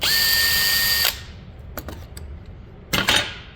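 A power drill whines steadily for about a second while drilling a pilot hole in a guitar neck, then stops; a few faint clicks and a short rustle follow.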